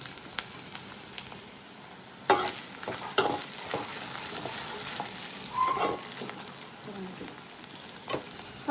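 Fennel, garlic and ginger fry in a pan with a steady soft sizzle, punctuated by sharp scrapes and knocks of a spoon stirring, close and moderately quiet.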